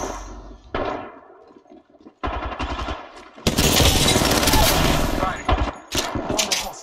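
Heavy automatic gunfire in the shooter Apex Legends, with short bursts building into a long, loud, sustained spray of close rounds, alongside brief game voice lines.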